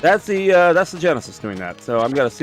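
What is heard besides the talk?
No everyday noise stands out behind the speech.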